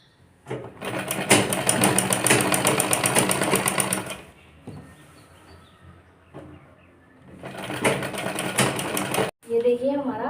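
Sewing machine stitching a four-panel petticoat, running in two loud sustained bursts with a quieter pause between, ending with a short restart.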